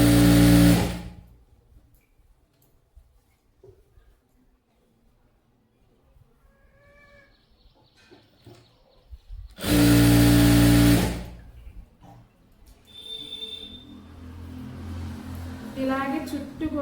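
An electric sewing machine stitching pants onto a belt runs in two loud, buzzing bursts, one at the start and one midway, with quiet handling sounds in the long gaps between.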